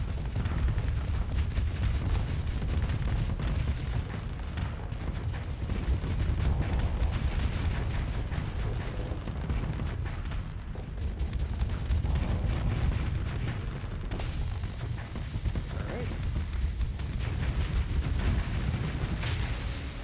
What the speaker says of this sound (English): We'll go ahead and fire the Reapers off